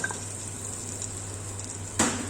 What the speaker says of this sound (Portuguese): Eu vou primeiro adicionar o bacon